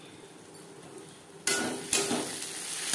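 Bhetki fish oil curry with chopped coriander is stirred in a frying pan, giving a soft sizzle and two sharp scraping strokes of a utensil against the pan, close and clear with no talking.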